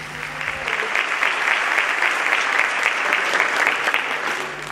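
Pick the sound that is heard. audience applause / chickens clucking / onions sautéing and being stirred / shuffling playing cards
audience applause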